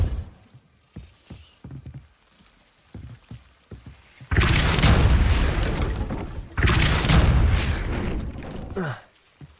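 A Depulso spell cast in Hogwarts Legacy: two loud, sustained whooshing blasts with booming low-end rumble, each lasting about two seconds, following a stretch of quieter scattered game sounds.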